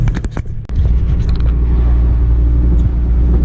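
Slammed Mercedes-Benz W123 diesel car driving with a steady low engine rumble and road noise from inside the cabin, after a few brief clicks and knocks at the start.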